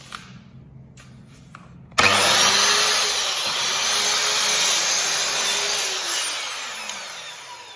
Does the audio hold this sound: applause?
no